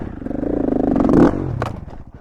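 Sherco dirt bike engine on an Idaho trail as the rider works the clutch, a close, raspy motor buzz that swells briefly and drops off, with clattering over about two seconds.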